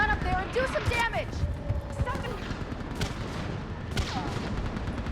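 Mounted gun fire during a battle in Mass Effect 3 Legendary Edition, repeated heavy gunshots and blasts mixed with shouted voices and whooshing effects.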